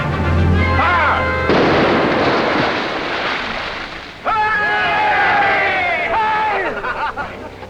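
Cannon fire from a sailing ship at sea: heavy booms go off in quick succession amid shouting crew voices and crashing water, loud and near, with a brief lull before another burst of noise.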